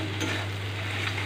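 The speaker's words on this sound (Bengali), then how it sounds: "ভালো করে মিশিয়ে নেব।" Beaten egg mixture with turmeric powder stirred in a hot frying pan, a continuous close sizzle with faint scraping of the stirring utensil and no talk.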